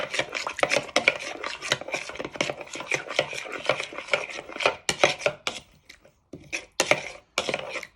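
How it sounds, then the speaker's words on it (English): Teriyaki sauce with rice vinegar being stirred in a pan, heard as close, dry scraping and rasping strokes in quick irregular bursts, with a few short pauses near the end. "Just give that a little bit of a stir."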